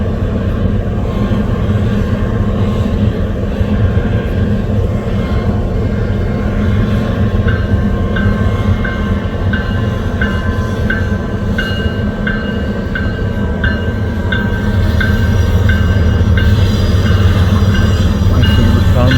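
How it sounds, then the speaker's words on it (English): An empty northbound coal train rolls past at Pacific Junction, Iowa, in a steady, loud rumble of wheels and cars, with a thin recurring wheel squeal partway through. "sitting right behind me was this empty northbound coal drag"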